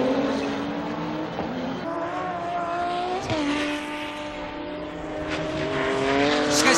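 Racing cars circle a track, the Zexel car closing on and passing the Unisia for seventh place on lap 24, their engines wailing at high revs in steady rising and shifting tones, with no talk heard.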